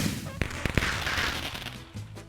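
An explosion goes off in the Minecraft video game: a few sharp cracks and thumps come first, then a loud, broad rumbling blast that slowly fades.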